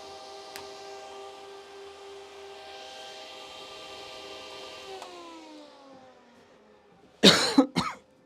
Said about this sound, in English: I'm coughing into the mic.